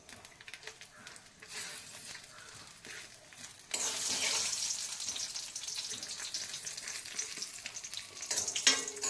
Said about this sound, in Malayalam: നമുക്ക് ഫ്ലെയിം ഓഫ് ചെയ്ത് കടുവ് പൊട്ടിച്ചത് നമ്മുടെ പച്ചടിക്കകത്തോട്ട് ഇടാം